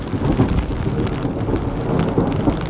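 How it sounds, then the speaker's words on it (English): Rain falls on an umbrella as a steady, dense patter with a low rumbling undertone that lasts throughout. "listen to the rain against the umbrella"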